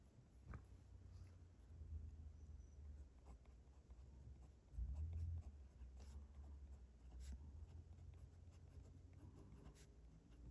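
Fountain pen with a fine nib writing on Tomoe River paper, a soft, faint scratching that runs steadily through the whole stretch with small pauses between strokes, no talking.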